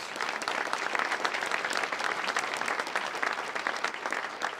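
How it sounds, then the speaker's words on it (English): An audience applauds the mayor at the 2025 State of the County Address, a full, steady round of clapping that fills the room for nearly five seconds without talk. "Please give the mayor a round of applause."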